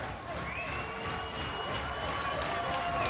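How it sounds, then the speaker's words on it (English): Wrestling crowd at a 1993 WCW Power Hour match cheering and chanting steadily throughout, a dense continuous roar of many voices with whistling tones rising above it. "the crowd continues to cheer and chant"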